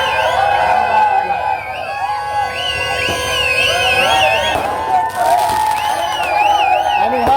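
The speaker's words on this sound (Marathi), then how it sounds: "जल्लोष सारंग मित्र मंडळाद्वारे केला जात आहे" A dense crowd roars at a Dahi Handi celebration held by the Sarang Mitra Mandal. The cheering runs continuously and loudly throughout, with wavering, whistle-like tones rising above the noise.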